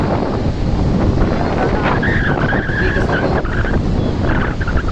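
Strong sea wind buffets the microphone in a loud, constant roar, with someone speaking briefly under the rumble, by the open sea with waves.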